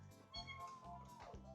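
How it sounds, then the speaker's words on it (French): A faint, distant cat meows once or twice, with a soft voice barely audible in the background. "Le petit minou!"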